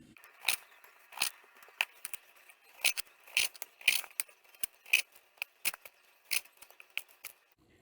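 Knife cutting fat from meat being prepared for jerky on a cutting board: a steady series of crisp, close clicks and taps at an irregular rhythm, faint and with no voices.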